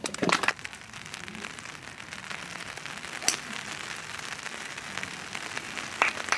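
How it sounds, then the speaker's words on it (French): Heavy rain pours steadily across a European Tour golf course during a tournament, a constant broadband patter with a few sharper drop impacts near the start, middle and end. "La pluie devient vraiment violente"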